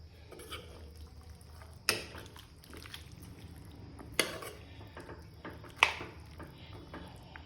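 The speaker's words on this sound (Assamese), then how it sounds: "তাৰপিছত আমি আকৌ ভালদৰে লৰাই দিম।" A spoon stirs potatoes in a pot just after hot water is added, for chickpea dal with eggplant, cabbage, potato and tomato. Liquid sloshes softly under three sharper scrapes and clinks against the pot.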